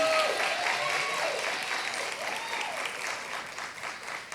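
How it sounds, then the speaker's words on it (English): Sustained applause from the audience at a university School of Education pinning ceremony, a broad wash of clapping with a voice faintly rising over it. "Please give a final applause to our candidates in middle grades education."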